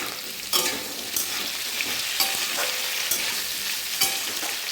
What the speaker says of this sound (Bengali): আলুগুলো একবার উল্টে নেব